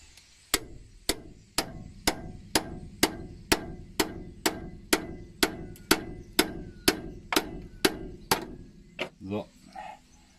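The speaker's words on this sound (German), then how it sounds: "Ah, jetzt haben wir einen dickeren Hammer hier." A heavier hammer strikes metal during work on a car being prepared for its roadworthiness inspection, giving about eighteen loud, evenly spaced blows in a steady rhythm, followed by a brief clatter at the end.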